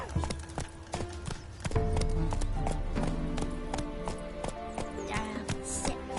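Hooves of the horse Roach clip-clopping in The Witcher 2, a quick steady rhythm of close, crisp hoof strikes running throughout, layered over game music and ambience.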